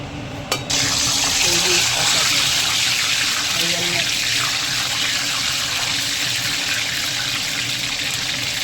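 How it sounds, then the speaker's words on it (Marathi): Bitter gourd frying in hot oil in a kadhai gives a steady, close sizzle and crackle that runs throughout after a brief opening bump, with no one talking. "ते कारलं तेलामध्ये घातलेलं आहे त्याला फ्राय करून घ्यायचं"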